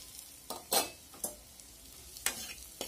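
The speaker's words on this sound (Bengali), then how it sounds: "আবার ভালোভাবে নাড়িয়ে নেব।" Potatoes being stirred into fried spice paste with chilli powder in a pan for a fish curry: several distinct scraping strokes of a spoon over a low sizzle, spaced out and fairly close.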